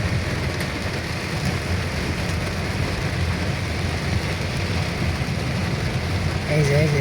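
Heavy rain falls steadily on a Dhaka city street, a dense even hiss with no breaks, heard alone.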